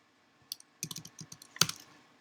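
Light key presses on a computer keyboard tap out a short irregular run of clicks, close and fairly quiet, with one sharper keystroke near the end and no voices.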